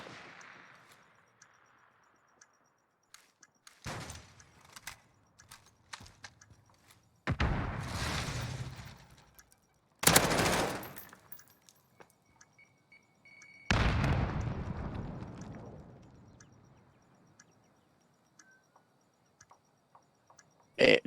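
Gunfire and explosions in a competitive Call of Duty esports match, heard as several separate bursts of loud blasts and shots, some sustained and roaring, with quiet gaps and faint ticking between them.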